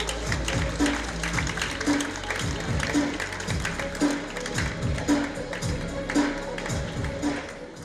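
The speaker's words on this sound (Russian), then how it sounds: "Встречаем аплодисментами." Audience at a theatre award ceremony applauds a prize winner, rhythmic clapping in a steady repeating pulse, likely in unison with music, heard at moderate level throughout nearly eight seconds.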